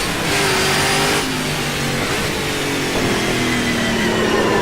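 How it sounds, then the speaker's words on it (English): A NASCAR-style stock car in the rFactor 2 racing simulator revs hard and loud, with a steady engine roar climbing and shifting through gears with no talking over it. "Great sounding car."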